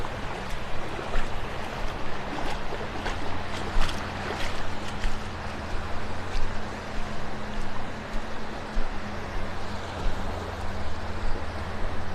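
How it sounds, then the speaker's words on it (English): A fast boat or jet ski runs somewhere offshore along a North Naples, Florida beach, a distant motor hum under steady surf and wind lasting the whole stretch. "I hear a boat moving pretty fast down to the south. Might be a jet ski."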